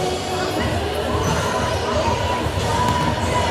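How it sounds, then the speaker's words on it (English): Crowd noise from a televised high-school basketball game, a constant murmur of spectators with faint cheering and a few ball-bounce-like thumps, steady and moderately loud throughout. "You want to hear a little bit, I guess, of the crowd noise, huh?"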